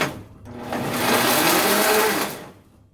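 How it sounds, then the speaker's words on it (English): A blender runs continuously on a Lomatium root herbal formula, its motor whirring and churning loudly for a few seconds before winding down, heard alone with no talking. "blend it a little bit more"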